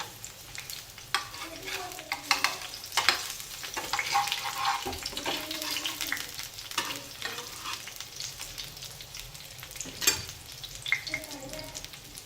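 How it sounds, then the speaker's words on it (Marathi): Taro leaf sandwich toasting on a griddle, turned over and over, with a steady soft sizzle and scattered scraping knocks as it is flipped, fairly close. "आता तव्याने मस्त उलटे पालटे करायचे आहेत."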